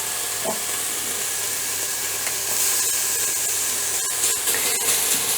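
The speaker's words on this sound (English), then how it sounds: "So it's been about 5 minutes frying onions" Onions, ginger and garlic fry in an Instant Pot for a vegan, oil-free dal, giving a steady close sizzle with a few light scraping clicks from stirring and no talking.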